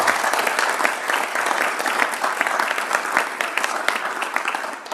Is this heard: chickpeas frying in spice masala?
no